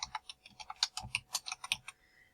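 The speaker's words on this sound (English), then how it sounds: "So we're going to click here and type in the new name" Typing on a computer keyboard while entering a new field name into a database table, with a quick run of close, crisp key clicks for about two seconds, then quiet.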